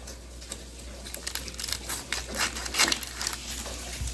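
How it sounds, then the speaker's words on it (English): A knife cutting through an onion on a cutting board in a home kitchen, making a run of crisp crunchy chops and taps, some louder clicks of the blade hitting wood, over a low steady hum. "I am gonna cut the onion. So you just cut off the edge."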